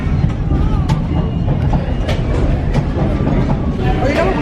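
A passenger train rumbles along its rails with a loud, steady low roar and some faint clicks from the carriage, with people talking over it throughout.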